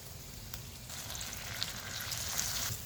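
Green chillies frying in oil, stirred in the pan: a faint, steady crackling sizzle with a low background rumble, close and continuous throughout.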